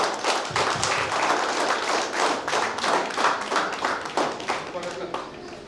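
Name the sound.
audience applause for Rotary club president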